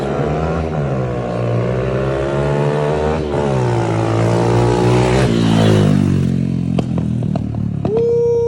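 An Evoke 140cc dirt bike engine revs hard on a test ride, its strong harmonic drone climbing and falling through gear changes, loud and close, with clattery mechanical rattles and scrapes near the end.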